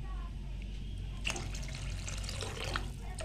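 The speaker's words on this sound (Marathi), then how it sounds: "आपण त्याच्यात अजून पाणी ओतून घेऊया." Water poured into pea curry as it cooks, first a low steady hum, then a splashing pour that runs for about two seconds, close and moderately loud.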